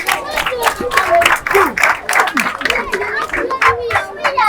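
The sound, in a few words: school crowd applauding for classroom donor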